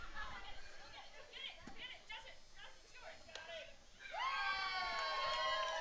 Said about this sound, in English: everyone's cheering for the young fan that picked up the baseball